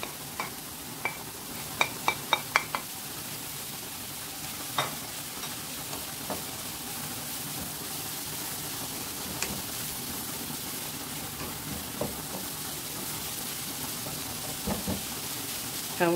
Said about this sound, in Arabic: نحاول نخلي هاد الخضرة حتى تهبط كاملة، نشحر مزيان